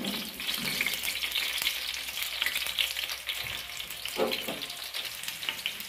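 About a kilogram of onions goes into hot frying oil in a large outdoor village pot for desi chicken, a loud continuous sizzle with some stirring scrapes, close and alone.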